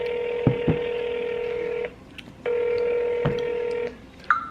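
Telephone keypad dialing tones sound as a caller rings family, with sharp short beeps and steady tones interrupted by brief pauses and a few faint clicks.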